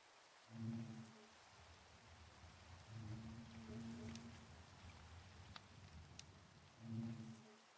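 Steady in-game rain hisses under a low, droning ambient tone that swells and fades, with occasional faint ticks and no talking.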